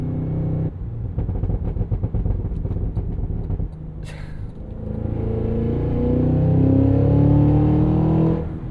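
A 2025 Cadillac Escalade V, a 682 hp supercharged V8 SUV weighing about 6,200 pounds, idles with a burbling rumble, then roars hard under full acceleration, the engine note climbing steadily and loudly through the gear.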